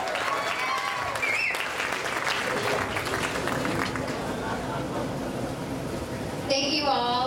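Guests at a family celebration applaud warmly for a few seconds, continuous clapping with crowd murmur and some voices beneath, rising slightly near the end.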